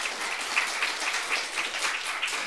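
A church youth service congregation claps together, a dense, even patter of many hands at moderate loudness that holds steady throughout.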